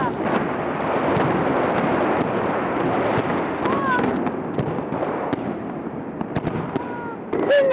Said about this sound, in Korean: 굉장히 많은 폭죽을 준비했습니다.